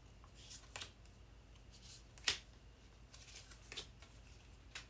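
A tiny tarot card deck is shuffled by hand, its small cards sticking together, giving soft scattered riffles and one sharper snap near the middle, quiet and close with no talking.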